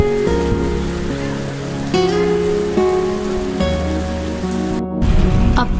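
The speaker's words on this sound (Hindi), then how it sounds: "केल पहुंचते ही बारिश ने हमारा इस्तकबाल किया।" Rain coming down at Kel in Kashmir's Neelam Valley: a dense, steady patter on surfaces, loud and continuous, with a constant low hum running underneath.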